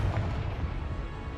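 A Confringo explosion spell going off in a Harry Potter-style video game: a broad, rumbling blast with a heavy low-end boom that sustains and decays over about a second, with no voices.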